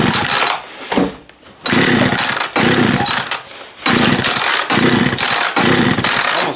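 Engine with dirt in the carburettor being kick-started, bursting into loud, rough sputtering runs that cut out and catch again in several uneven surges, close and alone.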